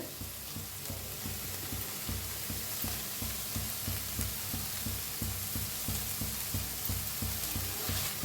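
An egg dish fries in a pan over a medium gas flame with coriander on top, sizzling steadily while a spatula scrapes and stirs in a regular rhythm close by.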